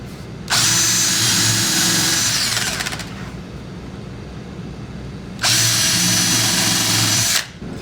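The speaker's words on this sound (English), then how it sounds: "And we're going to do a countersink here, and then a through hole here and here." Power drill boring a countersink and through holes into a scrap piece of wood: two loud, sustained whirring bursts of about two and a half seconds each, separated by a quieter stretch of low rumble.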